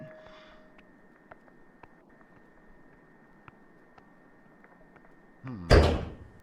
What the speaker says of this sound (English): that creaky sound was me picking up a key